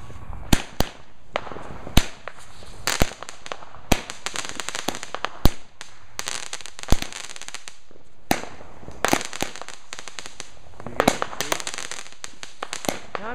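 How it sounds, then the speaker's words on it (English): Fireworks and firecrackers going off in 2015: a dense run of sharp cracks and pops, some near and loud, others fainter, firing in rapid irregular bursts with no pauses. "I'm getting the fireworks."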